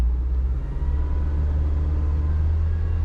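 Car engine idling steadily with a jack placed under the engine, a smooth continuous low rumble that stays even and fairly close with no talking over it.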